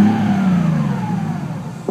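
A Datsun Z fitted with an RB30 engine gives a single loud, close rev, the engine note sliding down as the throttle eases off.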